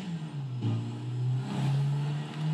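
A car engine revs while the throttle is held, its drone rising and settling in a sustained, moderately close hum with no talking.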